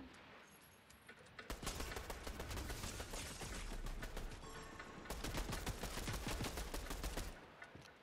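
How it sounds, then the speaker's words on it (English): Fireworks going off in rapid crackling bursts, dense volleys of sharp pops firing in two long loud stretches separated by a brief pause. "Fireworks fight! Boom!"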